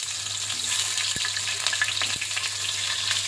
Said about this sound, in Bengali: তেলটা গরম হয়ে গেছে, আমি এবার একে একে সব ভেজে নেবো এর মধ্যে দিয়ে সুন্দর করে।